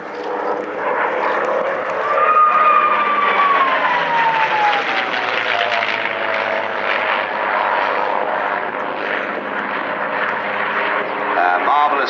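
A P-51D Mustang makes a low flypast at an airshow, its gun ports giving off a high whistling whine that slides downward in pitch over the steady propeller-engine roar, with voices talking underneath.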